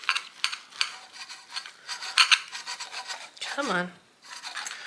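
A knife saws rhythmically through layered food topped with cheese, a series of raspy rubbing strokes close up, with a brief spoken remark near the end.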